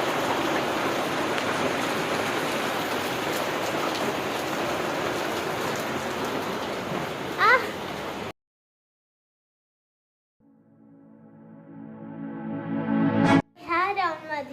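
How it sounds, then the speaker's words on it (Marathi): Steady, loud rain pours down continuously for several seconds, then cuts off abruptly into silence; afterwards a voice is heard speaking. "आमच्या इकडचा पाऊस आहे."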